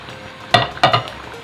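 Golden fried onions drop into mutton browning in a pot for khara masala gosht, making two or three quick, close scraping stirs over a low background sizzle.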